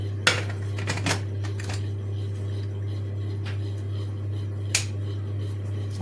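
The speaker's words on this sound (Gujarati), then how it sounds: "હવે હું કુકર ઢાંકી દઉં." Lid of a pressure cooker set and closed over an eggplant curry, giving a few sharp close metallic clicks and clacks spaced over several seconds above a steady low hum.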